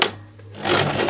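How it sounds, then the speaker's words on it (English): A sewing machine stitches a tote bag strap, starting up after a short pause into a close, buzzing, rasping run of stitching. "With the strap pinned, I'm going to put it underneath the foot, and I want to sew quite close to the edge."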